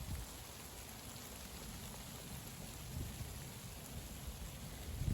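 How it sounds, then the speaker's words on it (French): Steady rain from a February squall shower pattering down in a continuous wash, with low rumbling gusts underneath and no voices. "Là on est sous une giboulée"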